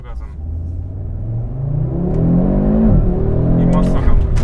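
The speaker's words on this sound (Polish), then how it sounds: "Dawaj, śmiało gazem." An Audi RS3 accelerates hard on a slippery track during a driving event. Its engine note climbs steadily and loudly, then dips briefly before pulling again, with a voice heard briefly at the start.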